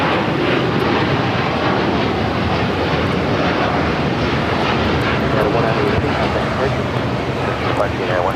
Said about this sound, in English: taking off to Shanghai on the 787-9 Dreamliner